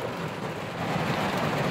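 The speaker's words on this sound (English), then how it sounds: "It's raining outside." Rain falling outdoors, a steady dense hiss of drops with some low rumble underneath, continuous and moderately loud, no talking.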